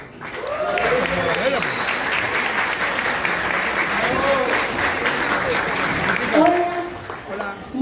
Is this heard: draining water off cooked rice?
no